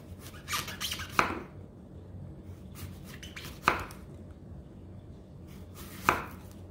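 Knife slicing through an apple onto a cutting board, three sharp separate cuts spaced a few seconds apart with softer rustling between them, close and clear.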